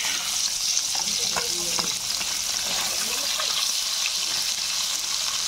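Turned rohu fish pieces sizzling in hot oil in a wok, a continuous close, dense frying hiss with scattered crackles and faint clinks throughout.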